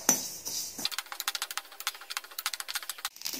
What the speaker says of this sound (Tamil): வறுபடையில் இது இது மாதிரி சட சடை நல்லா சத்தம் வரும்.